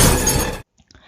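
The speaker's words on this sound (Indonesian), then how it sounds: "Ada seekor anjing yang menerobos masuk melalui kaca jendela dan melompati Noah." Window glass shatters as a dog crashes through it in a film scene: a loud, dense burst of breaking glass that cuts off abruptly, followed by a few faint tinkles and scattered fragments.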